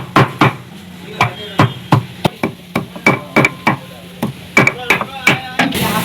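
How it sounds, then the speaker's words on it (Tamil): Metal blades chop parotta finely on a griddle for kothu parotta, a brisk series of sharp clanging strikes in an uneven rhythm, close and loud with no talking. "பரோட்டா பார்த்தீங்கன்னா பொடிசாக கட் பண்ணி வச்சுருக்கோம் பாருங்க"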